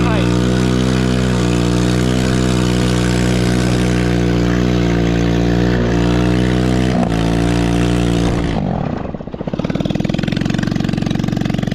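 A 110cc ATV drifting through deep snow in a blinding snowstorm, its engine held at a loud, steady high rev close by, then briefly dipping and catching before the drone returns.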